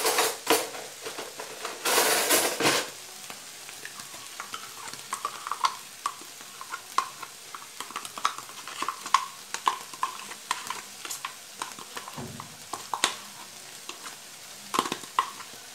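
A spoon stirs a filling of plain yogurt and three wedges of triangle cheese in a bowl, giving soft repeated scraping and clinks against the sides, with one louder clatter early on and quiet intermittent knocks throughout.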